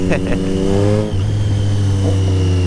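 Triumph Street Triple motorcycle with a Racefit Growler straight pipe exhaust, a loud, close engine note rising in pitch as it revs and accelerates, with a rider's voice partly over it.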